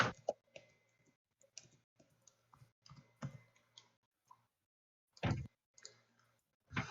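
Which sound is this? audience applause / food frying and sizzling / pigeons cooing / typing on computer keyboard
typing on computer keyboard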